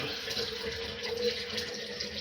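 Water trickling from a sink hose into a pitcher under a faulty hose P-trap, a steady, soft, close running-water hiss with no speech.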